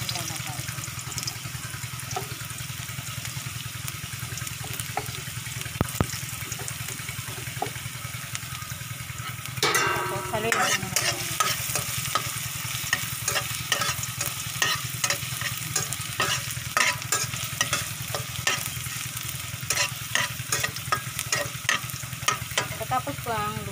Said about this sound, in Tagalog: Unahin po natin ilagay po ang luya.